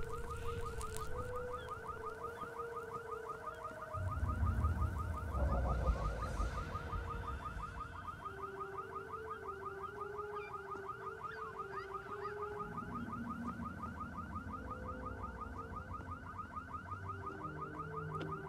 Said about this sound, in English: Sounds like the audio just looped on the car alarm.